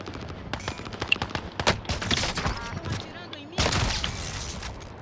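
Sniper and automatic gunfire in the Warzone video game, sharp repeated shots and bursts of rapid fire with an explosive boom, mixed with a player's excited voice talking over it.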